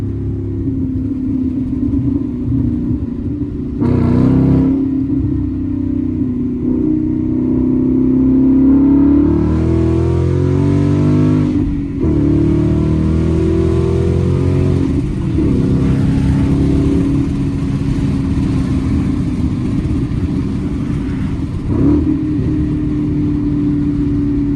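Ford Mustang GT V8 with a manual gearbox: a loud, deep engine roar climbing in pitch through repeated revving pulls, with brief dips at gear changes and a steady throaty rumble throughout, heard from inside the car.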